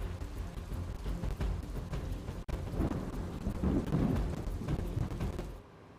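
Heavy monsoon rain pours steadily on Navsari, Gujarat, with low thunder rumbling underneath. The downpour stays loud and close throughout, with no voices.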